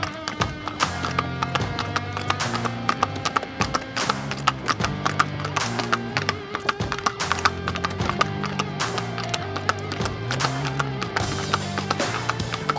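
Hooves of a horse pulling a tanga clip-clop in a steady, continuous trotting rhythm, loud and close, set against a dense musical backdrop that runs throughout.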